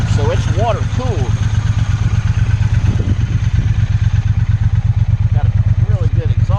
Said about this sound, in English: Got a really good exhaust sound.